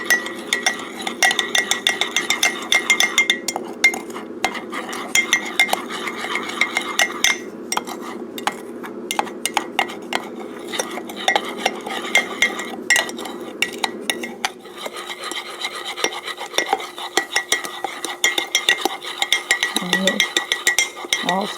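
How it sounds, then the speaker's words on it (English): A spoon stirring a baking mix and water in a small dish, with rapid continuous clinking and scraping against the sides that keeps going throughout and eases off near the end. "And I'll just stir it up."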